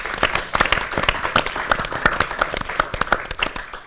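Audience applause after a plenary session at a culture conference, steady dense clapping from a room full of people, close and sustained for several seconds.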